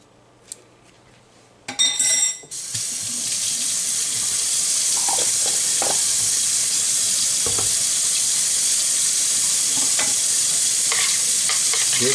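Turmeric paste with a tablespoon of coconut oil is stirred in a pan, beginning with quiet knocks and a brief clatter before a steady, close hiss of sizzling with scattered scraping strokes, and no talking.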